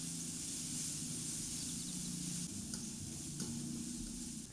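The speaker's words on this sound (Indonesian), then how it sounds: "Masukkan bawang dan cabai yang udah kita cincang tadi. Kemudian aduk dan tumis sampai harum." Chopped shallots and chili stir-frying in hot oil in a pan, a bright continuous sizzle with scraping stirring strokes and a few louder clacks, close and alone with no talk.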